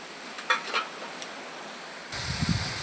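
Chicken mince fries in a pan while being stirred: a few soft scrapes over a low sizzle, then the frying swells suddenly louder and brighter near the end, with no talk.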